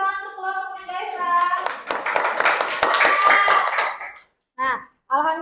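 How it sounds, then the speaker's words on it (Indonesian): Students in a classroom clap for a presenting group, a brisk burst of hand claps in the middle, set among children's voices and chatter before and after. "beri tepuk tangan untuk kelompoknya Gaesa."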